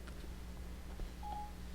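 Faint, brief telephone dialing tones from a call placed through an Aurora Design BTU-1 Bluetooth phone adapter, a short beep sounding over a low steady hum.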